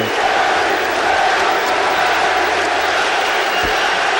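A capacity crowd at a Boston Celtics basketball game against the Pacers roars and cheers without a break, loud and dense, with whoops rising over the steady wall of noise.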